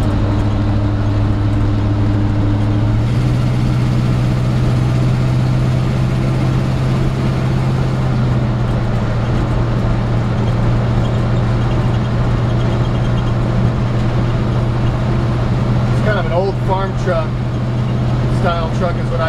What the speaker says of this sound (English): You can hear that transmission shift good.